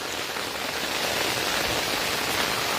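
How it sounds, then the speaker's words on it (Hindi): Heavy, continuous rain falls overnight in Madhubani, a dense, even hiss of drops hitting surfaces that stays loud and steady throughout, with no voices. "भारी बारिश लगातार 10-12 घंटों से चल रहा है"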